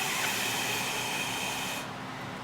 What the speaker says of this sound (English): You can hear that air escaping.